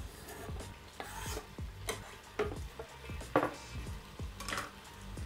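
Capsicum frying in a pressure cooker with seared beef, a soft sizzle under scattered stirring scrapes and clinks against the pot, quiet and close.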